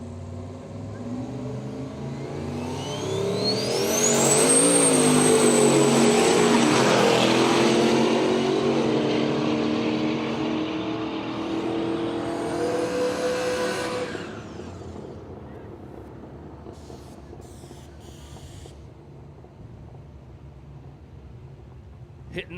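Drag racing cars launch down a strip at Willowbank Raceway, including a Commodore Ute hitting the nitrous, a loud engine roar that climbs and sustains for several seconds before fading away, with an announcer's voice in the background.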